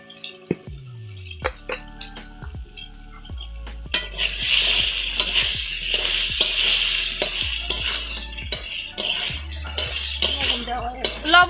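Cumin, turmeric and salt fry in a pan with plantain and fried potatoes. After a few sharp spoon taps and clinks, a loud sizzle bursts in and continues steadily, broken by repeated scraping and stirring knocks.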